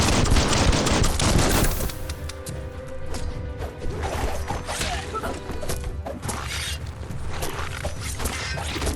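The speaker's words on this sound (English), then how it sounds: "Bullets everywhere." Rapid bursts of automatic gunfire and impacts rattle densely in the video game Biomutant, loud and continuous, mixed with whooshes and mechanical clatter.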